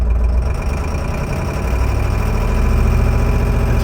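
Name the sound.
Ford F350 7.3 diesel engine idling with a miss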